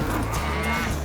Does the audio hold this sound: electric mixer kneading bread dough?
no